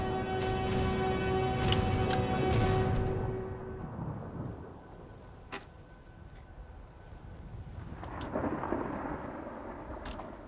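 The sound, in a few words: thunderstorm in Skyrim video game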